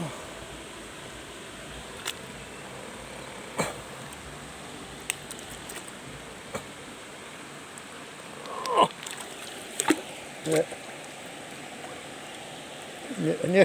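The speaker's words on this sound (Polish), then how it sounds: "Niech się trochę woda przepuka." Water gurgling and flowing in a stream as something on the bottom is rinsed by hand, a steady broadband wash with a few louder splashes and sloshes toward the end.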